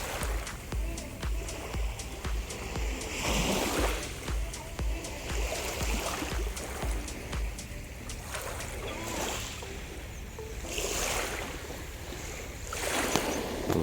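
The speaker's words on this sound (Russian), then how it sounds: "Море." Waves wash onto a beach along a coastline in Turkey, a soft rolling surge that swells and recedes every few seconds under light wind, moderately near.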